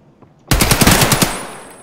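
Gunfire in the shooter game Escape From Tarkov: after a quiet half second, a close, loud burst of rapid automatic shots rattles for under a second, then rings out and decays.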